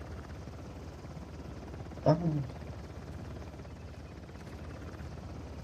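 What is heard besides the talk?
helicopter flying in Uncharted video game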